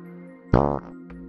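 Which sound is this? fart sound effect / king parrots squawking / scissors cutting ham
fart sound effect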